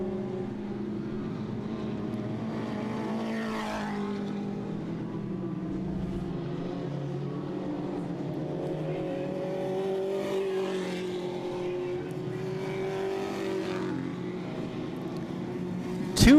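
Dirt track race cars at Southern Ontario Motor Speedway roaring through the turns, a steady pack of engines droning at mid distance with several cars swelling louder as they pass and the pitch shifting through the corners.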